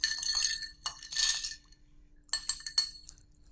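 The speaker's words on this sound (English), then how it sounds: "You stir it gently, about 20 times to the left and 20 times to the right." Ice clinks and rattles against a mixing glass as a martini is gently stirred with a bar spoon, in bright, close bursts of tinkling separated by brief pauses.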